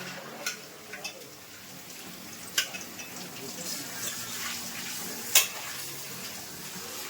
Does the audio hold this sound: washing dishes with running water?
yes